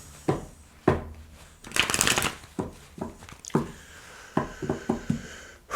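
Tarot cards being shuffled by hand in a series of sharp riffling bursts and soft slaps, with one longer, louder shuffle in the middle, heard up close with no talking.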